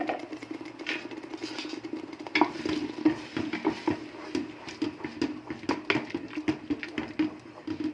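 A spoon stirs masala in hot oil inside a pressure cooker, with a close, irregular clatter of scraping strokes over a soft sizzle and no talk.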